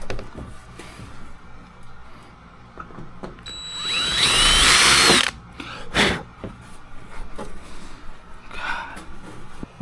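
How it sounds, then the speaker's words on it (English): A power drill whines loudly through a short burst, drilling holes in the bottom skins of a Zenith 750 Cruzer aircraft wing, with scattered clanks and tool handling noises before and after. "we are finishing drilling the holes to their final size in the bottom skins"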